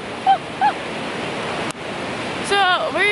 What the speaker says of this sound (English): So we're just having like a chill day at the beach right now.